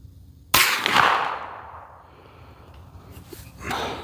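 A single sharp, loud report from a suppressed 300 Blackout Ruger American SBR bolt-action rifle, cracking suddenly and then trailing off into a fading outdoor echo, with a softer noise rising near the end.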